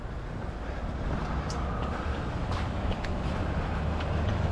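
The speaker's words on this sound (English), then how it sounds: "a detour right now because of the train coming through." A train moves through the old mill district of Fall River, a low, steady rumble heard at a distance, fairly faint and continuous, with a few light higher clinks over the drone.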